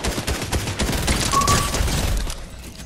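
Rapid bursts of gunfire from a Fortnite Battle Royale match crackle nearly nonstop, loud and close, with a brief high electronic tone partway through before the shots thin out at the end.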